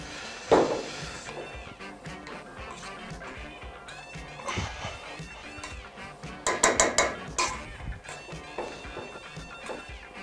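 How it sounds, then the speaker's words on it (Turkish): Food being mashed into a smooth purée in a restaurant kitchen, heard as irregular scraping, clinking and squelching strokes of a utensil against a pot or bowl, moderately close, with busier bursts midway and no talk. "Bunu iyice bu şekilde eziyoruz."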